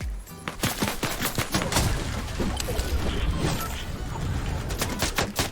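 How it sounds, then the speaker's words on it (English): Gunfire rattles through a first-person shooter game, with rapid irregular bursts of sharp shots and mechanical clatter filling the whole stretch, loud and close, with no voices over it. "Why are you shooting at me?"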